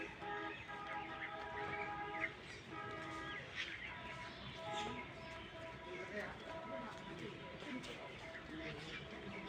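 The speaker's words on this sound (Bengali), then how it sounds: "পাখির কিচিরমিচির ডাক খুব ভালো লাগছে।" Birds chirp and call on a foggy winter morning around a rooftop garden, a faint, busy mix of small calls and possible cooing, steady throughout with low background noise.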